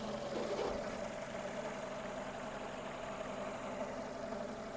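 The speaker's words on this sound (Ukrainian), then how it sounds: "двигун працює чітко" A Renault Megane 2 engine with 137,000 km idles steadily at close range, a low even hum with a faint rhythmic knock, running alone without voices.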